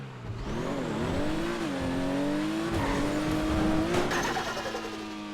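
A car in GTA V FiveM drives steadily with a continuous, fairly loud engine drone, its pitch rising and dipping through gear changes, with faint tyre noise and no talking.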